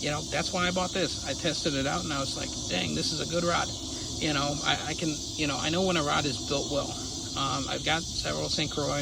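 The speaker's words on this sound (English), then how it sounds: "those are cicadas" Cicadas outside a garage buzz and trill in rapid, repeating pulses. They stay in the background while someone talks steadily over them.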